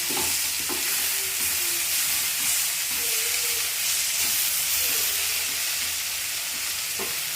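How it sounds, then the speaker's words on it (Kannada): Spices sizzle in hot oil in a pan while cooking butter paneer masala, a dense, continuous frying hiss with occasional stirring scrapes, close and steady. "ಒಗ್ಗರಣೆ ಕೊಡಬೇಕು"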